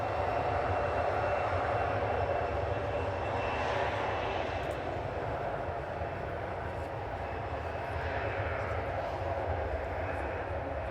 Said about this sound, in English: Wait for the planes to go back.